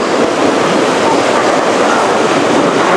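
Rushing water from the Tel Dan waterfall stream in a forest in Israel roars as a steady, loud broadband wash, continuous and close without pause.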